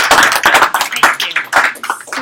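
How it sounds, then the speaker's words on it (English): A workshop audience claps for a helper, a burst of uneven, fairly close hand claps with some voices mixed in, lasting a couple of seconds. "Can we give her a round of applause?"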